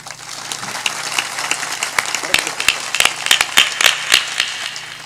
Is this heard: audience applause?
yes